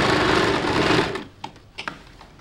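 A sewing machine runs a steady, loud stitching burst while sewing a blouse, then stops abruptly, leaving a few brief clicks and taps.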